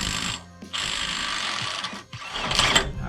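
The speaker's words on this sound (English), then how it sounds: "Now let's take off this main nut with 35mm socket." A 35mm socket spins on the main axle nut of a Toyota Tacoma wheel hub, giving a loud, steady mechanical whirring rattle that briefly stops twice before running on.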